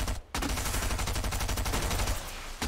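Rapid gunfire in Fortnite, fired into the sky, a steady stream of close, loud shots after a brief gap at the start and ending abruptly.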